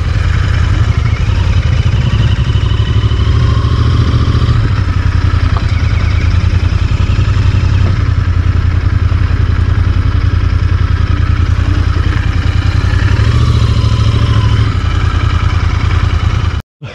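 A Royal Enfield Bullet motorcycle idles up close, its loud, steady thumping engine running continuously for about sixteen seconds before cutting off abruptly, with no talking.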